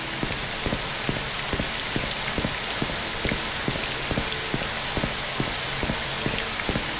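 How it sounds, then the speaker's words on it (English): Heavy rain pours down in the video game Morrowind, a constant dense hiss of downpour with scattered droplet ticks and splashes, steady and close with no talk. "now all of a sudden it's downpouring again"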